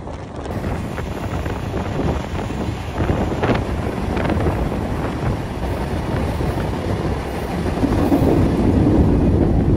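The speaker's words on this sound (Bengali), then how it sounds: "এই মুহূর্তে আমাদের ট্রেন ছুটে চলছে ঘন্টায় 100 কিলোমিটার গতিতে" Ruposhi Bangla Express rolling along at about 100 km/h, a steady loud rumble of wheels and carriage with wind buffeting throughout, growing slightly heavier toward the end, no voices.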